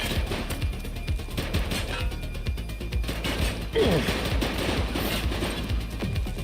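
Rapid video-game gunfire in a police shooter, with dense bursts of shots and clattering mechanical clicks running continuously at steady loudness, one sharper burst near the middle.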